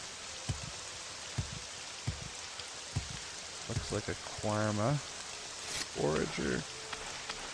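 Rain falls in the video game Morrowind as a constant soft hiss, with footsteps, clicks and brief creature or voice sounds rising over it.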